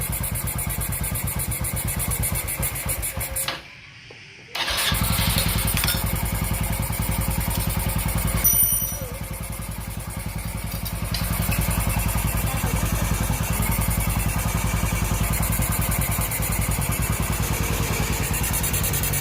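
Honda Dream Super Cub motorcycle running close by at a loud steady idle, cutting out briefly, then restarting and revving up before settling back into a continuous rattly idle.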